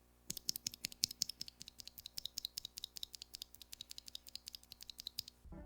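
Bare Cannon Keys Coffee Chip tactile switches clicked in a rapid irregular stream of sharp, close keystrokes, dozens of crisp taps with no voices, ending in a brief rustle.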